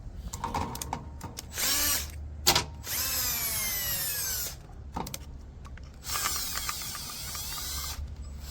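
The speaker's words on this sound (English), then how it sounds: "I'm gonna make a tool real quick that I'm gonna use with a drill to clean this hole up" A power drill spins a hole saw wrapped in sandpaper and held with twisted wire, cleaning out a hole on a moonshine still. Several bursts of whining, rising and falling motor sound are separated by brief pauses, loud and close.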